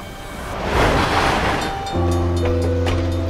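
A train runs on long railway tracks near the city of Huaihua, a broad rushing rumble swelling over the first two seconds, then steady sustained tones like a horn or music for the rest, with no talking.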